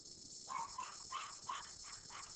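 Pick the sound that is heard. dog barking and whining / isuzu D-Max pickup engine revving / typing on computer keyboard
dog barking and whining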